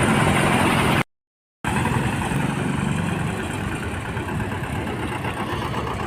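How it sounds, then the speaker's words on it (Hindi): Tractor engines rumble steadily at the Ganj Basoda grain mandi in India, a continuous loud idling drone broken by a brief gap, with the low throb carrying on evenly afterward. "तो लगातार ट्रैक्टर आ रहे हैं,"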